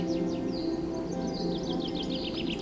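Birds chirping outdoors in India, a few quick tweeting calls and trills repeating over a steady low background hum, moderately faint and fairly near.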